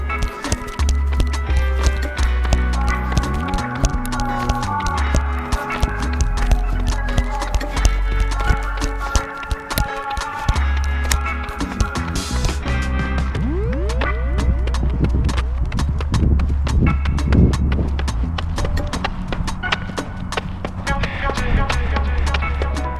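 A sprinter does A skips on a running track, with light, quick foot taps repeating in a steady rhythm over background music.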